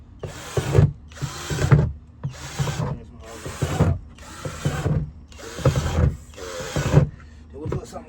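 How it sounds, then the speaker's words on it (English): A pink power drill bores air holes into a compost bin in a series of about seven short, loud whirring bursts separated by brief pauses, each burst rising and cutting off sharply. "I gotta drill holes in this because it does need some kind of airflow"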